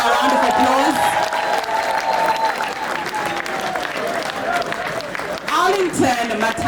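Sustained applause from an audience at an awards recognition night, honoring an outstanding performer. The clapping stays loud and dense throughout, with crowd noise and some cheering mixed in.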